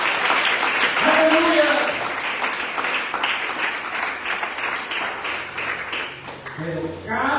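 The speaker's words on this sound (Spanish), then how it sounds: "Dale fuerte ese aplauso al Señor." A church congregation claps loudly and continuously for several seconds while a voice shouts in exclamation over the applause.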